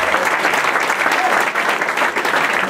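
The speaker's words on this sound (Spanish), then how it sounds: "Un aplauso." Audience applause at a Mexican Jewish community event marking a change of board presidency, a dense, steady clapping that stays loud and even throughout without pause.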